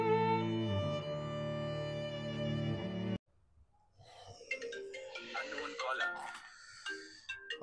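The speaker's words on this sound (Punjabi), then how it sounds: "ਕਿਹਦਾ ਫੋਨ ਆ ਗਿਆ" A phone's ringtone plays loud and sustained for about three seconds, then cuts off abruptly, followed by quieter rustling and handling sounds.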